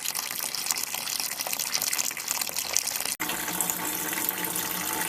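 Cloudy wort from brewing an autumn IPA real ale is poured back over the grain bed, a continuous close splashing gush of liquid with a brief break midway before flowing on steadily.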